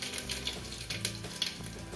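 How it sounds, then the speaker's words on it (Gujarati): Mustard seeds and cumin crackle and spit in hot oil as the tempering for a Kathiyawadi masala khichdi begins: a steady, close sizzle dotted with sharp little pops, with no talking. "તેલ ગરમ થઈ ગયું છે. હવે એમાં આપણે રાઈ જીરું નાખશું."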